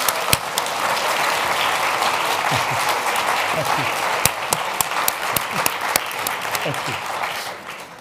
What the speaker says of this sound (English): we should all give a very big round of applause for Ai Weiwei and Uli Sigg